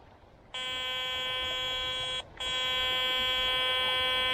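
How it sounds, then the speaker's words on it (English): Kellyco Striker z60 metal detector sounding its pinpoint tone, a steady electronic buzz that cuts out briefly and resumes, clear and alone. "Let me let you listen to the tone again, okay? The pinpoint function. Now listen to the pinpoint."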